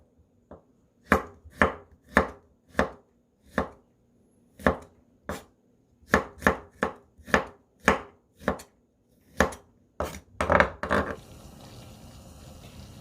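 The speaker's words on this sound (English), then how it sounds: "Then slice the garlic." A knife slicing garlic on a cutting board, with crisp, evenly spaced chops landing close and loud, about twenty strokes with short pauses, then a faint watery hiss at the end.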